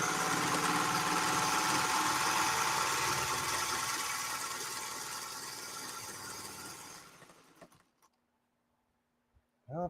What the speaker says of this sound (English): Oh, it stopped sewing.